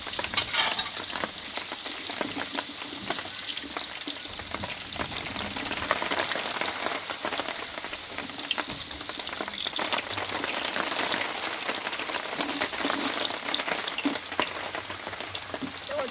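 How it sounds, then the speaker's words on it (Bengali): Potatoes frying in a little oil in a pan for a Bengali alu potol dum, a continuous bright sizzle with occasional stirring scrapes, close and steady throughout with no talking. "আলুটাও কিন্তু আমি লাল লাল করে কষিয়ে নিয়েছি দেখো আলুটা কিন্তু পুরো কষানো হয়ে গেছে"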